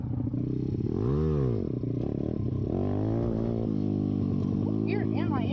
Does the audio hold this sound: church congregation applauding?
no